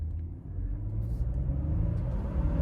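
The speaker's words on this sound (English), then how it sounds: "I'm just gonna give it full throttle and see what happens" A 2025 Ford F-150 with the 2.7-liter twin-turbo EcoBoost V6, traction control off and sport mode on, pulls at full throttle, a steady deep engine rumble and drone that holds loud throughout.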